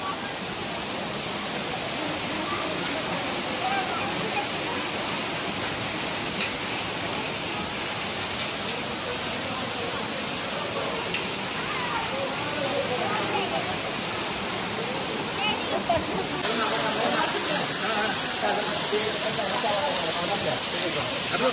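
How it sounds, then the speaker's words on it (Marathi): A waterfall of cold water, seen from a train window, gives off a constant, dense rushing hiss that stays loud and unbroken throughout. "बघा धबधबा किती सुंदर धबधबा आणि पाणी किती सुंदर गार आहे."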